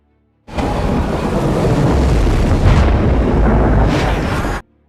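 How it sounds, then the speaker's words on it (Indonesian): A bomb blows up a lake in an action film, a loud, sustained roaring blast of rushing water and debris that starts abruptly and rumbles on for about four seconds before cutting off. "Akhirnya bom yang dipasang Hazard meledakkan seluruh isi danau"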